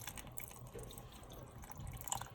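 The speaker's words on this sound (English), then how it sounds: "And then I'm going to add just a touch of water." Water poured in a small trickle into a pot of pea soup, faint dripping and liquid splashes at close range with no talk.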